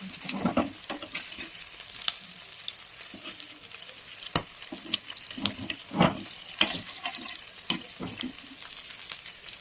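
Three whole green chillies fry in hot oil, crackling and sizzling close by, with intermittent stirring scrapes and bursts of spattering over a constant background fry.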